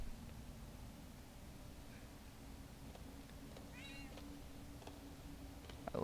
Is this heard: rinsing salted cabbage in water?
no